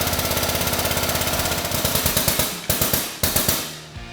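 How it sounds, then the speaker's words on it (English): A hydraulic press drives a socket down to seat a bearing into a 6-inch GDP portal gear box on an ATV, giving a loud, steady run of rapid rhythmic mechanical knocks and clanks, close up, with a few sharper thuds near the end. "We're gonna get our socket in place, and we're gonna go ahead and start pressing it down."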